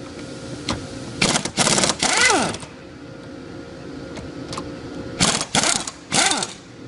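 A power tool whirs in short bursts while a Vickers vane pump is taken apart on a fixture in a workshop, with two pairs of loud buzzing runs separated by quiet handling.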